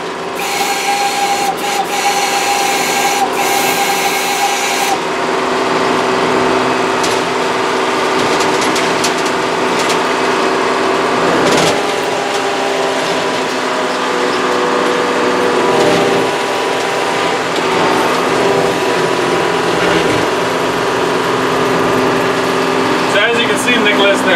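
A steady mechanical rumble and whine of a locomotive engine running on rails, with rattling and clanking throughout and voices talking over it.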